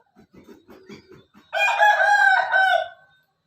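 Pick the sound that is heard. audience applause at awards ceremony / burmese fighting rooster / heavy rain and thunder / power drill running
burmese fighting rooster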